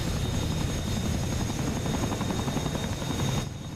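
A helicopter in the combat flight simulator DCS World produces a loud, continuous rotor thrum with a steady turbine whine, close and unbroken, then drops suddenly in level near the end, with no talking.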